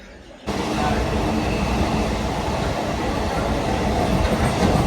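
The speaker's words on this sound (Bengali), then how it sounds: "চলে এসছে আমাদের ট্রেন তো চলো ট্রেনে উঠবে এবারে" A train pulls into the station at Krishnanagar, rolling in loud and close with a steady heavy rumble and clatter of wheels that starts abruptly and continues throughout.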